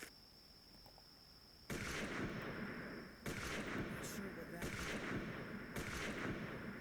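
Gunfire while hunting in the video game Hunting Unlimited 2009, four loud booming shots spaced about a second and a half apart, each ringing out over a steady background whine.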